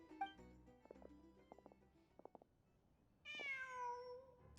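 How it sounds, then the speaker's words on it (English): In the Genshin Impact video game, a cat gives one clear, drawn-out meow near the end after a few quiet clicks and soft tones, with no talk over it. "Just a cat."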